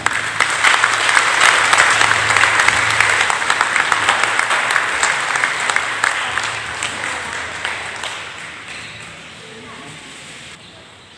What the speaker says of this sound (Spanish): Y damos un aplauso.